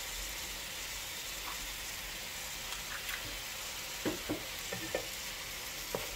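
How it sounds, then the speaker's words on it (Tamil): Tomatoes and onions sauté with salt in a pan for a Tamil crab fry, a quiet steady sizzle with a few soft stirring clicks and scrapes toward the end, no talking. "இப்போ தக்காளி நல்லா வதங்கிடுது."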